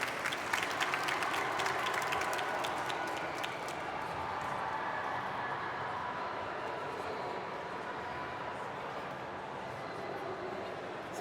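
An audience at a Japan Expo 2025 conference applauds with sustained clapping that starts dense and lively and gradually settles into a steady wash, with crowd murmur underneath.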